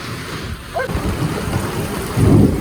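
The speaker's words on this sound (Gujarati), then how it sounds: "વરસાદ આવે" Heavy rain pours down onto a flat rooftop terrace, a continuous rushing hiss, with a deep roll of thunder swelling near the end.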